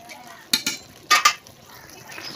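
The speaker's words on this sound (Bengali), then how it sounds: "হলুদ দিয়ে এখন নাড়াচাড়া করি।" A spoon stirring bottle gourd curry with turmeric in a metal pan, a few sharp clinks in two quick pairs over faint background noise.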